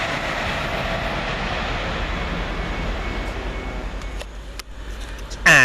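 Class 800 trains pulling out of London Paddington toward Bristol, a steady rumbling rail roar with faint clatter that thins and dips near the end before a brief sharp noise.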